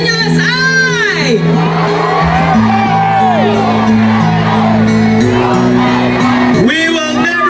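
A big crowd at a Duterte rally in Davao shouts and cheers without a break, loud and close, with whoops and bellowed calls rising over a dense roar of voices and steady tonal sounds underneath.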